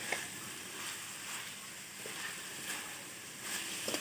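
Cabbage fries in a pan with a soft, continuous sizzle, with faint occasional stirring taps, quiet and steady without any voices.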